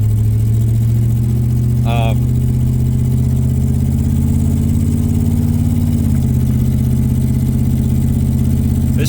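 Chevy K2500 pickup with a 7.4-litre V8 and worn front end, needing a tune-up, idling roughly up close, a loud steady low rumble with slight unevenness and a brief squeak partway through.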